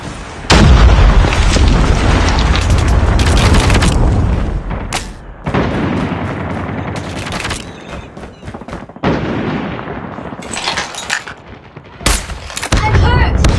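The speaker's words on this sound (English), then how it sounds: "Predator missile inbound." Predator missile strike in Call of Duty Mobile, a ranked multiplayer match on the Frontline Monastery map: loud booming blasts and bursts of gunfire come in heavy waves, broken by short lulls.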